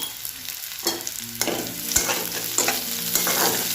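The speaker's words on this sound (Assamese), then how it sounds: "এতিয়া মই ৰঙচুৱা হোৱালৈকে ভাজি ল'ম" Chopped onions with a pinch of sugar fry in a pan, a steady close sizzle with stirring scrapes and clinks of a spatula running throughout.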